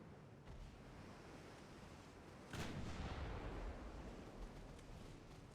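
Naval gunfire in the video game Ultimate Admiral Dreadnoughts: a single sharp, heavy boom about halfway through that rolls out into a low rumble over a faint sea-like hiss.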